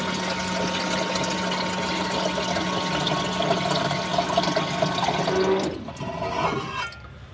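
Water pours steadily from a tap into a pot for cooking, a continuous rushing stream that cuts off near the end, leaving quieter room noise.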